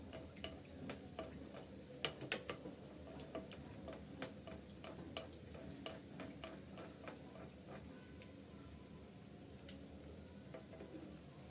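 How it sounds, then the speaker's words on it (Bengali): Faint frying sizzle with scattered soft ticks and crackles, fairly quiet and continuous. "আমি প্রত্যেকটা উল্টিয়ে পাল্টিয়ে ভেজে নিচ্ছি"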